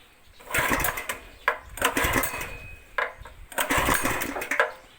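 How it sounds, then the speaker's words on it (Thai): Small engine on a CHH sugarcane juice press being pull-started, three or four separate rough bursts of cranking as the cord is yanked, close and loud, with pauses between pulls. "เดี๋ยวจะสตาร์ทให้ดูนะครับ สตาร์ทไม่ยากครับไม่ยากดึงนะครับ"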